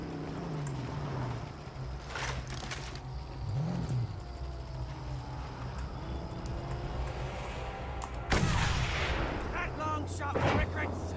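Gunfire from a sniper in the Mad Max video game, with sharp cracks and bursts standing out over a constant vehicle engine rumble and game noise, including a loud burst near the end.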